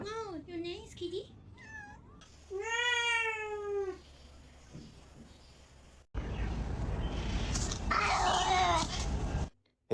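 A pet cat meows several times close by, with rising and falling drawn-out cries, then a louder, rougher stretch of noise follows.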